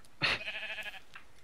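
A single sheep bleat from the Minecraft video game, a short bright wavering call standing alone and fairly loud, with a faint trailing echo.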